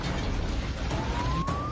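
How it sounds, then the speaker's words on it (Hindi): A city air raid siren wails during a missile strike in Dnipro, Ukraine, a steady distant tone that slowly rises in pitch over continuous background noise. "हवाई हमले के चलते पूरे शहर में सायरन बजने लगे।"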